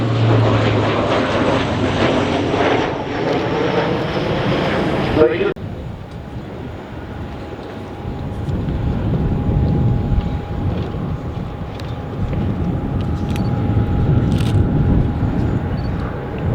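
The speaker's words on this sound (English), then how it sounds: "This aircraft is flying today with a blend of sustainable aviation fuel" An ATR turboprop airliner at Farnborough Airshow 2024, flying on a sustainable aviation fuel blend, drones loudly with a steady propeller hum that fades into a quieter, sustained engine tone after the first few seconds.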